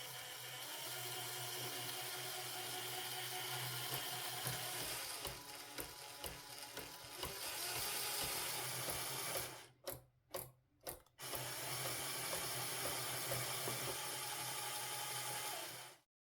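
A motorized LEGO mechanical speed-graphing system runs as its motor speed changes, producing a steady close whir and rattle of gears and ratchets. The sound stops and restarts in several brief gaps before running on and ending abruptly.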